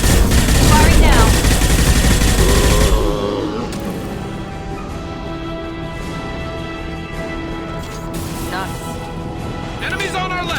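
Gunfire in the video game Mass Effect 2, a loud dense burst of rapid shots up front that drops to a lower rumble of battle noise with scattered shots and voices talking over it.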